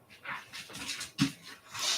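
A puppy whimpers and whines in short, soft bursts, with a sharper yelp partway through, close and fairly quiet.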